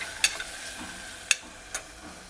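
Moong bean curry cooks quietly in a pan with a faint steady sizzle, broken by a few sharp clinks of a spoon against the pan.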